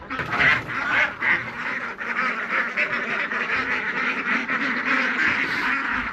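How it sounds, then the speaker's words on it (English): Ducks quack in a backyard poultry pen among chicken pens, a continuous overlapping chorus of nasal calls that stays steady and fairly close with no talking. "So these are the ducks."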